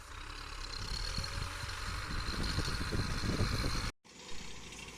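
A tractor engine drones steadily for several seconds with a mechanical rattle, then cuts off abruptly before a quieter hum resumes.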